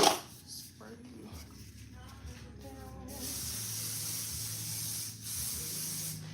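An aerosol spray can lets out a loud, continuous hiss that starts abruptly and holds steady for several seconds after some quieter rustling and brief voices.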